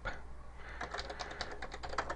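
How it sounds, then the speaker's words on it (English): Rapid clicking of keys as a name is typed on a computer keyboard while building a map in the Panzer Command: Ostfront map editor, steady close taps over a low hum with no talk. "We'll start by typing the name of our map"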